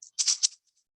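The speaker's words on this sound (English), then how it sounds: "She has a plastic Easter egg filled with rice and taped together with just ordinary" A plastic egg shaker filled with rice gives a quick gritty shake, a short burst of rattling grains, then silence.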